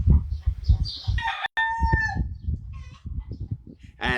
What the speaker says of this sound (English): Mr. Cockerel making a lot of noise at the moment as well.